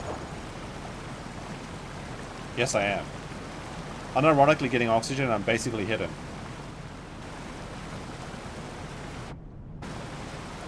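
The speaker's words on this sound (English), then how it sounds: "the waterfall sounds are annoying though, so I don't want to stay here too long" A waterfall in the video game The Isle gives a steady, loud, even rush of falling water throughout, with someone talking briefly over it.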